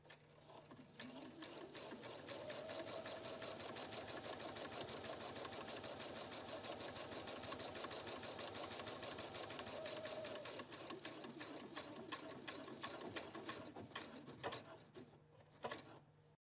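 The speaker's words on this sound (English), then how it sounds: "Sew until the presser foot is clear of the seam." A Husqvarna Viking Platinum Plus sewing machine stitches in a fast, steady mechanical whir with rapid needle rhythm for most of the stretch, then slows and stops with a few clicks near the end.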